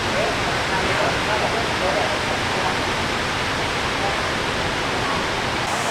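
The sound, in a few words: large waterfall in Thailand rainforest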